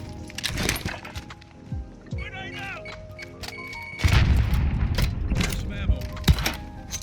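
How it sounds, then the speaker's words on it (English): Gunfire and impacts in the Warzone shooter game, with sharp shots and booms scattered throughout amid a sniper exchange, louder and denser in the second half, with talk over the action. "I don't know where I'm getting shot from."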